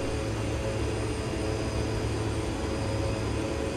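Steady airplane engine drone in the X-Plane 11 flight simulator during a flight from Abbotsford to Victoria, BC, a continuous dense broadband roar with a low hum, unchanging throughout.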